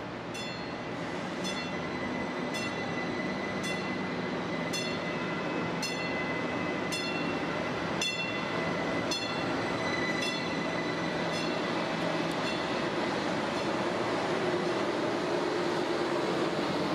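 A Metrolink Arrow train passes through downtown Redlands near the old Santa Fe depot, giving a steady, loud rolling rumble with a regular ticking beat from the wheels.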